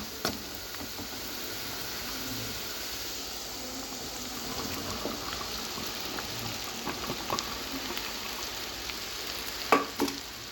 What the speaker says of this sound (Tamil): இப்போ நம்ம கட் பண்ணி வச்சுருக்க வெண்டைக்காவை சேர்த்துக்கலாம்